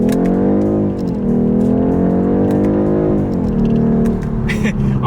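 A 2026 BMW 430i Coupe accelerating hard in Sport Plus using paddle shifters, its engine drone rising steadily and dipping briefly at each quick gear change, loud and close from inside the cabin.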